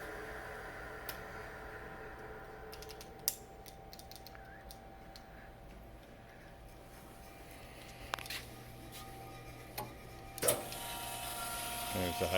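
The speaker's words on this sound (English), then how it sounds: "There's the hydraulics are running." A rebuilt Chevalier machine runs with its hydraulics on, a low steady hum under scattered light clicks and knocks, quiet and close with a few louder mechanical taps near the end.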